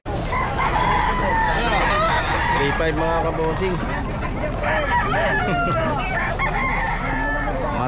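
Roosters and chickens crowing repeatedly at a Bocaue pet market during heavy rain, several overlapping calls and clucks over a loud steady wash of rainfall, with someone speaking briefly partway through.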